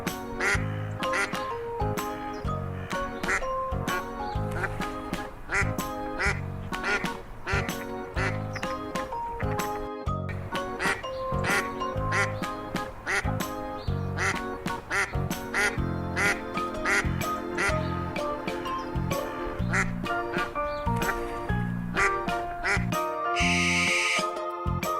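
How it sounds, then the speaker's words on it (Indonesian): A duck quacks over and over in a steady, rhythmic series of clear, close calls, part of an animated children's animal-sounds lesson, with a brief different sound near the end. "Bebek."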